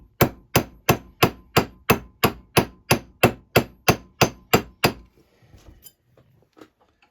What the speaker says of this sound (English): So I need my special hammer, which is hiding down here. I'm just going to tap it.